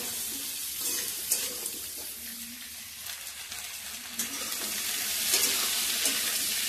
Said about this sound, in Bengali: দিয়ে দেবো ক্যাপসিকাম, হালকা একটু ভেজে নেব।